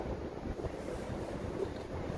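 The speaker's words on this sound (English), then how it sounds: "you're going to hear the wind. It's a little windy today." Steady low wind buffeting an outdoor microphone on a windy day, a continuous rumbling roar with no speech over it.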